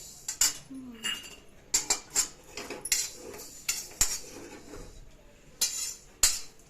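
A kadhai slips and clatters against metal, with sharp clanks and clinks of cookware in irregular bursts, close and moderately loud in a quiet kitchen.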